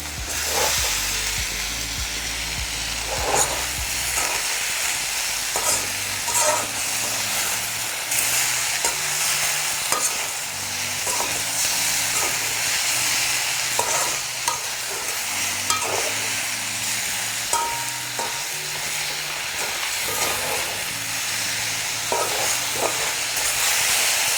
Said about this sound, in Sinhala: පොඩ්ඩක් වෙලා මේ විදිහට කලවම් කරන්න ඕනේ